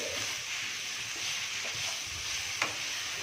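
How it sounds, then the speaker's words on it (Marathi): Grated raw mango sautéing in a hot pan for raw mango rice gives a steady, close sizzling hiss with soft stirring scrapes throughout, and no talking. "किसलेली कैरी जी होती ती आपण याच्यामध्ये घालून घेणार आहोत हे सुद्धा आपण छान परतून घ्यायचे"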